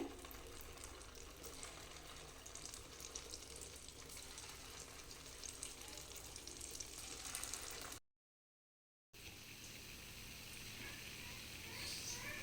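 Idli-batter punugulu fry in hot oil with a steady, dense, crackling sizzle that stays fairly faint and continuous. A short break in the middle is followed by more of the same bubbling.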